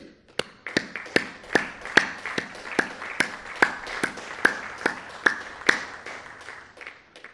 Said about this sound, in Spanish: Un aplauso a nuestros paisanos migrantes.